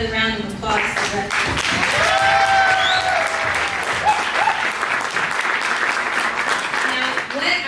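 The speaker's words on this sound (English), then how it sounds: "Let's give another round of applause to her." A graduation audience gives sustained, full applause for a student speaker, a thick steady clapping that swells and then continues with a few faint voices underneath.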